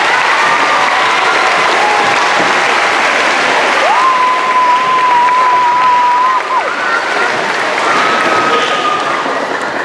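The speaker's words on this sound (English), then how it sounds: "So please give your fellow student athletes a big round of applause." Steady, loud applause from a school pep rally crowd in a gym, dense clapping that fills the whole stretch without letting up, with a faint sustained tone running beneath it.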